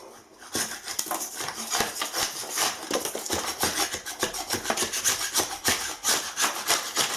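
Scraper rasping rapidly across polystyrene coving in short, repeated strokes, a scratchy, close, moderately quiet scraping with no talking.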